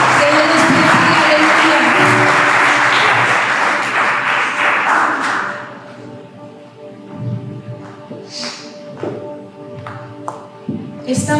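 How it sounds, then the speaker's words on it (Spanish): A church congregation claps for a group of young women, a loud broadband patter for about five and a half seconds that then thins into scattered faint claps and quiet murmuring. "Denle un aplauso a las jóvenes valientes"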